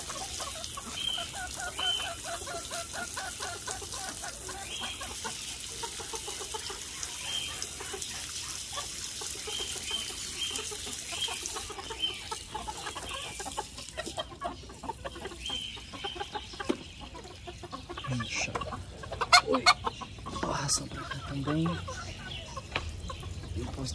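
Hens cluck softly in a farmyard alongside trickling water, with occasional rooster-like calls and quiet background speech, the whole scene faint and somewhat distant.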